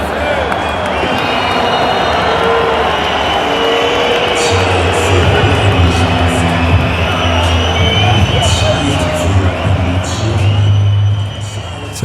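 A large football stadium crowd after a heavy home defeat, a dense, continuous roar of many voices, with a low sustained booing tone swelling in the second half over the general din.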